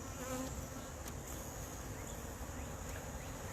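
Honey bees buzzing around an open hive during a beekeeping inspection, a dense, steady drone close by with no pause.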